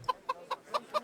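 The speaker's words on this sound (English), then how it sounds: "Scared the chicken." A chicken clucks in the medieval video game Kingdom Come Deliverance, five short evenly spaced clucks in quick succession, close and clear with no speech.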